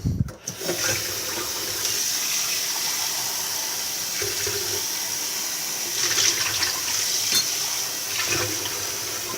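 Water pours steadily from a tap into a kitchen sink to soak dishes, a continuous hissing splash with occasional clinks and a brief knock at the start, no talking.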